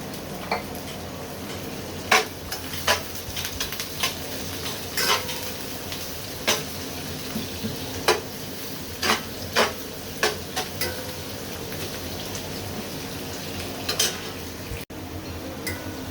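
Onions fry in a mix of oil and ghee in a pan with cinnamon, a steady close sizzle broken by frequent sharp spatula clinks and scrapes, with no talking.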